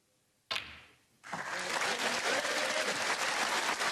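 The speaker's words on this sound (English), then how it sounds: "Warmly applauded by the waterfront crowd." A snooker audience at the Scottish Open breaks into warm applause for Ronnie O'Sullivan's century break, with a brief sharp burst followed by sustained, dense clapping from a fairly small crowd filling the room.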